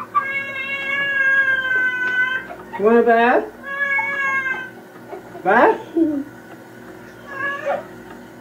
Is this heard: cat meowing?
yes